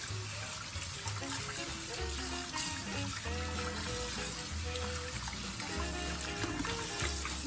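Water runs from a tap over corn being rinsed for green pozole, a steady splashing trickle with soft rattles of kernels, close and continuous.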